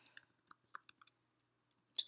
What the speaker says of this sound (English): I'm going to type in Flubber Toys